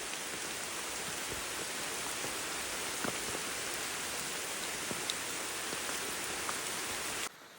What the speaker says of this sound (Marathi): पावसाची सुरुवात झाली आहे मित्रांनो बघा भरपूर पाऊस वरती आल्याच्या नंतर सुरू झालाय